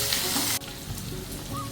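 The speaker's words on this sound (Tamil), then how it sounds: "வெங்காயம் கருவேப்பிலை நல்லா வணங்கட்டும்." Onion and curry leaves fry in oil in a pan for vegetable semiya upma, giving a dense, close sizzle that is louder at first and then settles to a softer, steady crackle.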